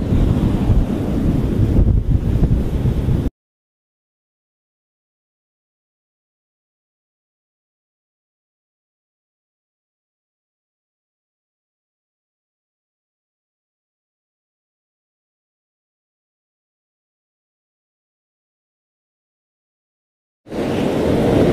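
Wind buffets the microphone over ocean surf at Venesia beach, Tanjung Bayung, in Sambas on New Year's Eve. The loud rush lasts a few seconds, cuts to long silence, then returns briefly at the end.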